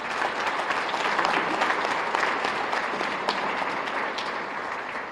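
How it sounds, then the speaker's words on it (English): An audience at the Wadsworth Chamber of Commerce's 2016 Rosie Awards gives a round of applause, dense steady clapping from a sizable crowd lasting several seconds. "So let's give them a round of applause."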